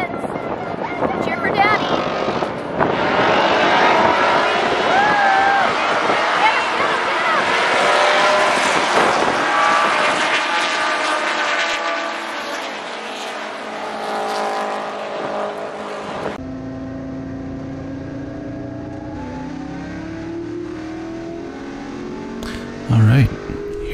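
Race car engines roar together at the start of a touring car race on the Pikes Peak International track, loud and sustained with wind buffeting, then fall to a steadier in-car drone after about sixteen seconds.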